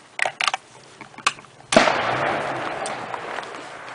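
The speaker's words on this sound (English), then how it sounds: "let's just put some bullets down range and see how many times we hit that pipe plate" Rifle shots ring out at an outdoor range from a Savage Axis chambered in .243 Win firing 80-grain bullets, a cluster of sharp cracks followed by one heavier blast that rolls away in a long echo.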